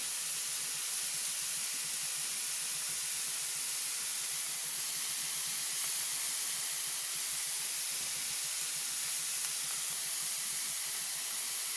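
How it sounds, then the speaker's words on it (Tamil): Chicken masala with turmeric, chicken masala powder and chili powder sautéing in a pan without water, a steady close sizzling hiss running throughout, alone with no talk. "இதை நல்லா வதங்கட்டும் தண்ணி விடாமே வதக்குங்க நல்லா வதங்கட்டும்"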